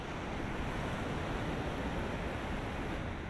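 Stormy sea surf breaking on a beach, a constant roaring wash of waves with wind noise, steady and unbroken across the short stretch.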